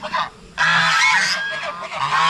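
Farm geese honk loudly and close, a short call, a brief pause, then a long overlapping chorus of nasal honks from several birds.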